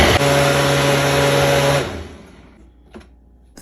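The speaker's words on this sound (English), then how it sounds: "and blend everything to smooth" A countertop blender whirs loudly while blending almonds, dates, vanilla, cinnamon and water into almond milk, then stops after about two seconds and leaves a quiet tail with a couple of faint clicks.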